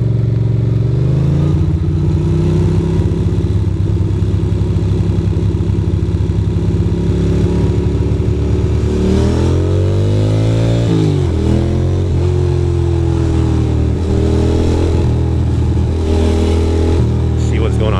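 City street traffic between Harlem, Central Park and the Queensboro Bridge, with motorcycles and cars revving and rumbling steadily up close, engines rising and falling. People talk over the traffic noise.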